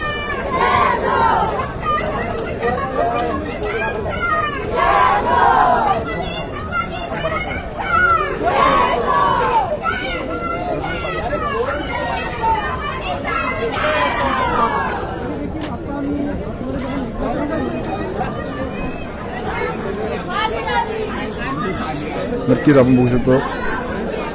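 Crowd noise at an election victory celebration for a political party, loud chatter and cheering shouts rising in bursts, with a reporter talking over the hubbub.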